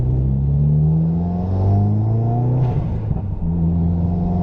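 A turbocharged 2015 Subaru WRX with an aftermarket intake revs up hard through second gear, its pitch climbing steadily, then a brief shift and renewed pull, close and loud.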